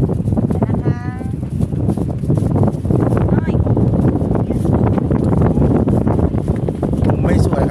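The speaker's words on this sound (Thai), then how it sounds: "วันนี้ลมแรงหาจุดยืนไม่ได้" Strong wind gusting across a microphone at a riverside fishing spot, loud continuous buffeting roar throughout, with people talking intermittently underneath.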